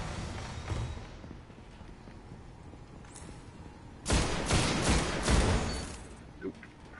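Weapons firing in the shooter Destiny: a faint shot early, then a loud cluster of rapid gunfire blasts and impacts lasting over a second, followed by a softer stray shot.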